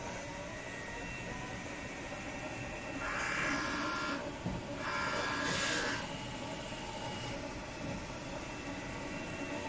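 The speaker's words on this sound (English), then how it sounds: "Then the printer will start to print the 2 print head alignment for horizontal." Steady mechanical whir and rumble of a Nebula-35F industrial DTF printer running a print head alignment, with two louder swells of a higher hiss as the carriage passes, continuous and close.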